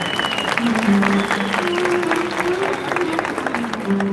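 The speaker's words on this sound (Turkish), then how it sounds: "Güçlü bir alkış alabilir miyim?" Strong audience applause at the Malatya promotion days event in Istanbul's Yenikapı, a continuous dense clapping from a large crowd with music tones running underneath throughout.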